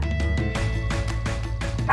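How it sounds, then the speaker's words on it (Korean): A dog in a home barks at arriving visitors with a rapid run of close, loud yips and barks, broken by a few brief pauses. "보통 손님들 오면 이렇게 좀 많이 짖고"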